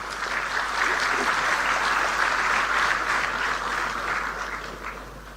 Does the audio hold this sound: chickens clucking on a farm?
no